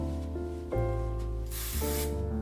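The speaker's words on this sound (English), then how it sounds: "I'm gonna add a little bit of dry shampoo" Drybar Detox Clear dry shampoo sprayed onto hair in one steady, close hiss lasting about a second, over music.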